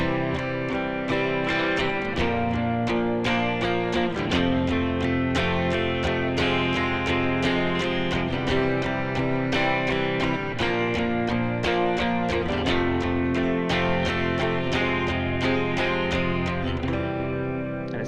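A series of sustained chords played one after another in a steady progression in C, using both major and minor four chords, each change coming every couple of seconds.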